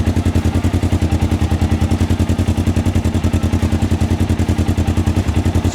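A Polaris Xpedition side-by-side with a Trinity exhaust idles loud and close, its steady, rapid pulsing throb unchanging throughout with no other sounds.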